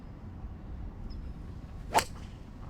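A single sharp, hot crack of a 2025 TaylorMade Qi35 fairway wood striking the golf ball rings out over faint outdoor background noise.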